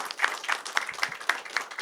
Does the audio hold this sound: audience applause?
yes